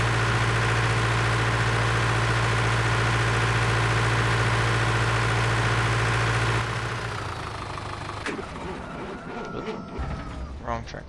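A tractor engine in Farming Simulator 2013 idles steadily with a loud, constant low rumble for several seconds, then drops away into quieter mixed game sounds.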